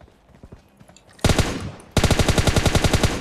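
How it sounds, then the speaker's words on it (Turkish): Rapid bursts of automatic gunfire in the video game PUBG Mobile, one short burst and then a longer sustained volley, loud and close, with no speech. "Biri de başka bir yerden sıktı."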